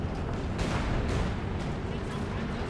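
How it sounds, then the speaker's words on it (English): Mortar barrage in a war video game, a dense continuous rumble of overlapping artillery blasts and booms filling the whole stretch at steady high loudness, with a voice talking over the top. "And there's yet again the next left barrage out. Yet again 40 mortar pits here."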